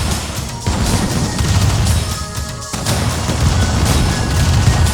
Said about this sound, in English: And let my rocket troops pummel the tank